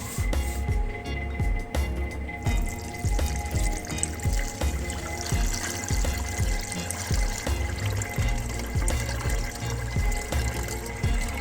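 About 1.5 litres of water poured into a pot over sugar for making syrup, a steady gushing splash with a rhythmic glugging pulse, close and continuous.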